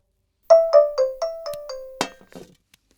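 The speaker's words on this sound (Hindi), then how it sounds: "तुम्हारा फोन बज रहा है।" A mobile phone rings indoors with a bright electronic melody of six or seven quick repeated tones, loud and close, ending in a final chime before quiet.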